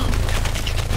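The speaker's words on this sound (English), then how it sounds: "Oh my god, the turret is too powerful" Torbjörn's turret in the Overwatch video game firing a dense, unbroken volley of rapid gunfire, loud and close, with booming low-end weight throughout.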